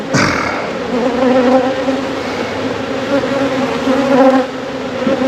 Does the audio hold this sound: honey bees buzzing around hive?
yes